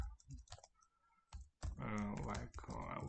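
A login typed on a computer keyboard, with a few quick, close clicks in the first second and a half before a voice starts talking over the rest.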